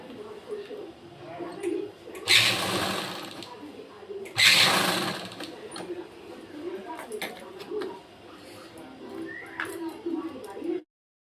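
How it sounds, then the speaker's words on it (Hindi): Sewing machine running in bursts while double-stitching the pleats of an embroidered blouse, a close mechanical whir with two louder surges and lighter stitching between, with voices nearby. "हम इसको पक्का कर लेंगे डबल सिलाई से।"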